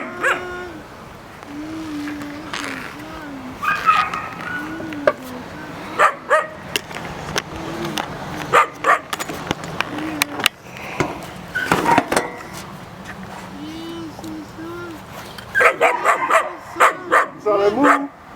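A Manstopper puppy of Nero's bloodline barks and yips in bursts, close and loud, mixed with whimpers while someone talks throughout.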